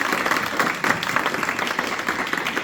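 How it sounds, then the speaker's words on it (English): Audience applauding guests at a Chile coup anniversary event with an art exhibition, a dense, steady clapping wash across the whole stretch with a voice briefly audible over it. "one more applause for our guests"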